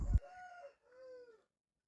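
An Aseel rooster of the red nemali type gives a single short crow close by, rising then trailing off in two strained phrases, with a brief scuffle just before it.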